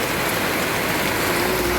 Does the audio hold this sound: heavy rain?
yes